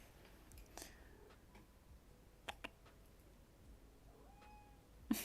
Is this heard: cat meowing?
yes